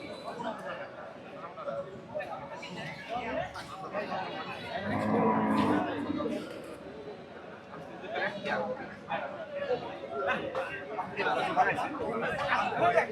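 Cattle low at a rain-soaked village cattle market in Manikganj, with moos and livestock noise mixed into the steady chatter of nearby people talking throughout.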